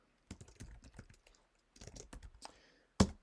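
Typing on a computer keyboard, close and fairly quiet, with a quick run of keystrokes, a pause of silence, another burst of taps and a final louder key press.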